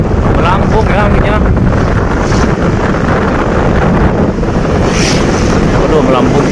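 Strong wind blowing over the microphone while a kite flies outdoors, a loud continuous rumbling buffet with faint voices in the background.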